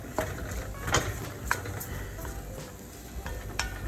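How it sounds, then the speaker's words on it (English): Boiled potatoes are mashed in a pot with a utensil, giving irregular soft squelches and sharp metallic knocks against the pot, close and moderately loud. "I'm gonna go ahead and crush them up in the pot here"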